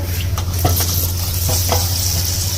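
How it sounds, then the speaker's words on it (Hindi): Boiled mutton tipped into sizzling fried onions for haleem, a loud close-up sizzle with a few scraping stirs and a steady low hum underneath, without talk. "अब इसमें गोश्त डाल देंगे।"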